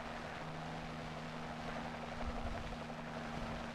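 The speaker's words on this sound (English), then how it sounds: "Three hours later, an ARVN helicopter landed." Steady ARVN military helicopter rotor drone in Vietnam, 1963, with a low hum and constant thrum, fairly distant and unbroken throughout, no voices.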